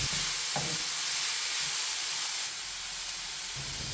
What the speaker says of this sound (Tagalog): I-add na nato tong carrots and i-continue lang dayon nato og mix hangtod medyo maluto na siya.